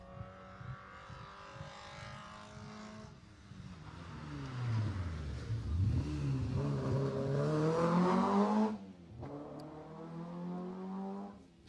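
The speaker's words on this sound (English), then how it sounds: "As the next car is about to come past us." A rally car on a stage of the 2018 Jersey Rally approaches with a rising engine note, roars past close by with a pitch-dropping sweep, then cuts off sharply and fades.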